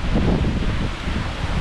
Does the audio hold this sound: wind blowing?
yes